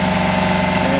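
A backup generator engine burning used automatic transmission fluid cut with off-road diesel drones steadily at idle, loud and close with a constant low hum and no pauses.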